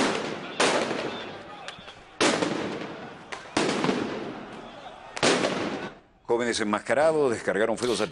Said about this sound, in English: Palestinians with fireworks and the security with tear gas.